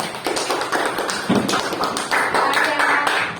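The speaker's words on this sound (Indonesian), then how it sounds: "beri aplaus untuk semua kelompok" A classroom applauding the student groups after they demonstrated washing and shrouding the dead: a few pairs of hands clapping unevenly up close, with sparse taps and thumps rather than a full ovation.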